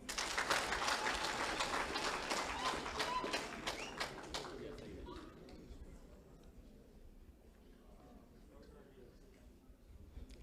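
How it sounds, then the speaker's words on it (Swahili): Audience applause at a Catholic liturgical choir competition results announcement in Kenya: a dense, steady burst of clapping that fades after a few seconds into softer scattered claps and room murmur. "Tuwapigie makofi."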